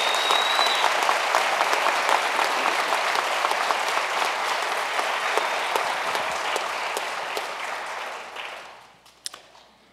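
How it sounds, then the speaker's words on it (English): Sustained audience applause at a Lackawanna College police academy graduation for Class 244, a steady dense wash of many hands clapping that fades out over the final seconds. "How about a round of applause for Class 244?"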